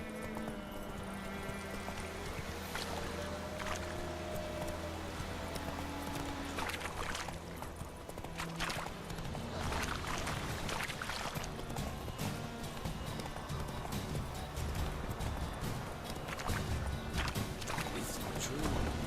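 Geralt's horse Roach galloping in The Witcher 3, steady rhythmic hoofbeats close and continuous under game music, while someone speaks over the running.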